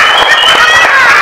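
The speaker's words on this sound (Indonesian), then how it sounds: "Oke, kasih tepuk tangan semuanya." Children clap together in a classroom, a dense, loud patter of many small hands with a bright ringing tone, brief and continuous.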